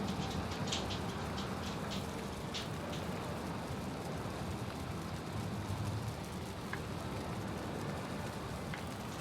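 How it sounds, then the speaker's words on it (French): Steady rain patters continuously in the game Valheim, with occasional faint crackles and drips, no voices. "Il pleut dehors."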